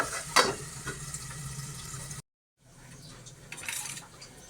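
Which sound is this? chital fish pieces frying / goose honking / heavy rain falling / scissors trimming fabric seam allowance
chital fish pieces frying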